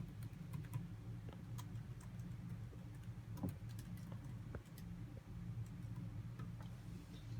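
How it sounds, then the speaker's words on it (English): Someone types a short message on a computer keyboard in a workplace office, a steady run of light key clicks over a constant low hum of background noise. "we can type a little message"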